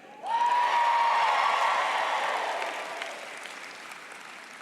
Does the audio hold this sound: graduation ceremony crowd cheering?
yes